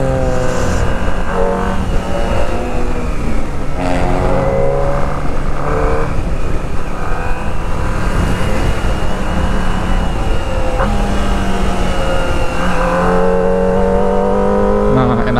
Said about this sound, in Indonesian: berisik ini mobil